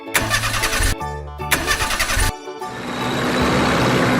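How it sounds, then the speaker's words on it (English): An engine starting on a cartoon water tank truck: two short cranking bursts with brief silent gaps, then the motor catches and settles into a steady running hum. "It's a water tank truck."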